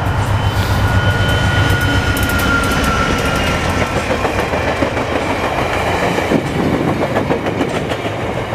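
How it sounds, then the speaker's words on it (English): A Via Rail passenger train hauled by an F40 locomotive rushes past on Christmas Day in Montreal, a loud, steady rumble with rhythmic wheel clatter across the rails throughout. "Little via train action on Christmas Day."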